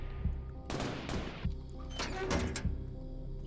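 A door swings shut in a video game, heard as a series of sharp knocks and sliding, clattering thuds spread over a few seconds at moderate volume.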